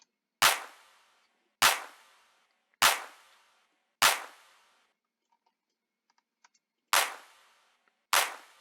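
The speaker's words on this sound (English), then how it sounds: "Then I have claps. Together they sound like this." Six sharp, layered hand claps with quick decays ring out alone at a steady, spaced rhythm, with one longer gap in the middle.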